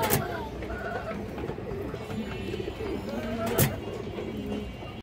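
Muslodom pigeons, including a fourteen-tailed female, cooing in a steady low murmur with a brief sharper burst near the end.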